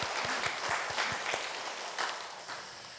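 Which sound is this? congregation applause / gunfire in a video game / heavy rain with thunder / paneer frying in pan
congregation applause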